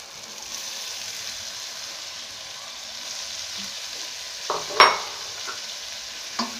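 Tomatoes and spinach fry in a pan on a steady low sizzle, with a few clear scrapes and clinks of stirring, one louder knock near the end; no talking.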